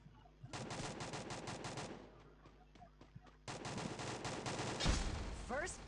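Video game gunfire in Free Fire, two bursts of rapid automatic shots separated by a pause with a few scattered single shots, close and punchy, with faint talk underneath.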